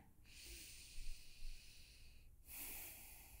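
Slow pranayama breathing through both nostrils, drawn in long, soft airy strokes with a short pause between breaths, close and quiet, with no voice.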